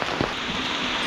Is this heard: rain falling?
yes